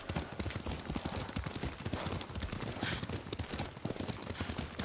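Horse hooves clip-clopping during riding in the video game Ghost of Tsushima, a rapid, continuous galloping patter of thuds up close, steady and loud for the whole stretch.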